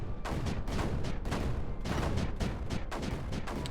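Rapid bursts of mortar and cannon fire from the strategy game Creeper World 4, a dense volley of sharp repeated booms at an uneven rhythm, moderately loud with no speech.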